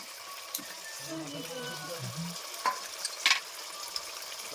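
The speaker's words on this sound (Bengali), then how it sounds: "এখানে আমার মশলাগুলো ভাজা হয়ে গেছে" Soft sizzling of spices frying in oil, with a few clinks and scrapes in a pan; a voice murmurs briefly in the background.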